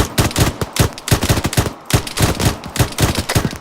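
Rapid bursts of rifle fire in the ArmA 3 military game, many sharp close shots in quick irregular volleys with brief pauses between, loud and alone.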